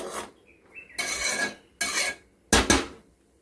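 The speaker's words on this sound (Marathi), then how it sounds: "आता हे एकदा तळापासून छान ढवळून घ्यायचं।" A spoon scrapes around the bottom of a pot of boiling water for rice-flour-style batter, in three or four separate rasping strokes with quiet pauses between them.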